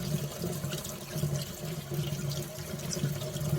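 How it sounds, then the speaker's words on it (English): Warm water runs over a piece of glass to rinse off etching cream, a soft, steady splashing and trickling stream heard close up without any voices. "I'm going to rinse off all of my etching cream"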